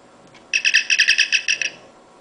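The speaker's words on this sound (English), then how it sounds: "Here's the first communicator chirp." A Star Trek communicator chirp plays from a prop sound chip. It is a bright burst of about a dozen rapid warbling pulses lasting just over a second, loud and alone.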